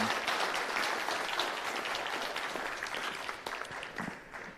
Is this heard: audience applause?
yes